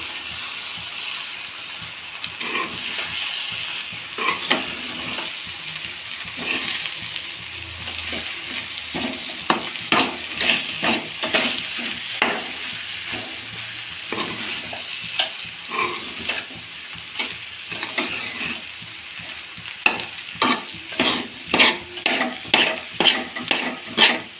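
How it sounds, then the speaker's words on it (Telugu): Tomato egg fried rice ingredients being stirred and tossed in a hot pan, a continuous sizzle broken by repeated spatula scrapes and knocks that quicken into a rhythmic run toward the end, close up with no talk. "ఇప్పుడు ఒకసారి ఐటమ్స్ అన్ని కలిపేసుకున్నాం బాగా"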